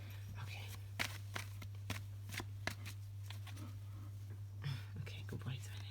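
A deck of cards is shuffled for a tarot reading, soft repeated riffling and slapping strokes over a steady low electrical hum, with quiet whispered speech alongside.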